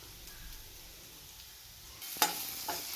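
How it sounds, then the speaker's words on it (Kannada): Ginger garlic paste hits hot oil in a pan while paneer is being cooked, and a sudden bright sizzle follows a quiet lead-in. The frying is close and fairly loud, with a stir or scrape, and no voice is heard. "ನೀವು ಒಂದು ಸಲ ಜಿಂಜರ್ ಗಾರ್ಲಿಕ್ ಪೇಸ್ಟ್ ಆ್ಯಡ್ ಮಾಡಿದ್ಮೇಲೆ ಅದು ಹಸಿ ಸ್ಮೆಲ್ ಹೋಗೋವರೆಗೂ ನೀಟಾಗಿ ಫ್ರೈ ಮಾಡ್ಕೋಬೇಕು"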